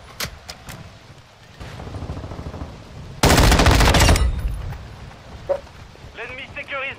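M13 rifle fire in Call of Duty Modern Warfare, with a few sharp single shots early and then a loud sustained automatic burst of about a second. Game voice chatter comes in near the end.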